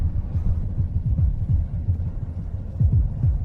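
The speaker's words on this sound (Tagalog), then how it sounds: "Mabilis ang tibok ng puso." A fast heartbeat sound effect from a Filipino drama gives a steady run of deep, thumping low pulses, loud and close, over a rumbling hum with no talking.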